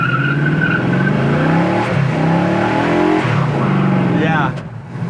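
A 1970 Chevelle's engine roars and revs hard close by as the car accelerates, with shifting pitch sweeps, while people talk over it.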